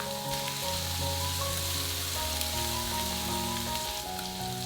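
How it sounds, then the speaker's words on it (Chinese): Ginger, garlic and chopped green garlic stir-frying in hot rapeseed oil in a wok, a steady close sizzle with spattering crackle over a low background hum, no talk. "放菜籽油，把油烧热， 放姜蒜末和青蒜丁，"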